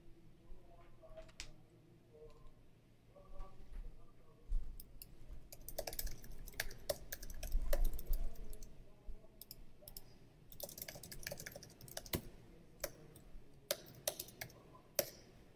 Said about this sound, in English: You can hear the keys typing.